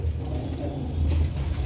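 Sturdy racing pigeons in a loft coo nearby in low, repeated throaty calls that carry on steadily through the moment.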